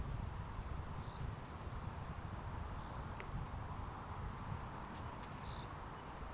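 Wind blows steadily outdoors at a pond at night as a low rumbling rush close to the microphone, with faint chirps of insects scattered above it.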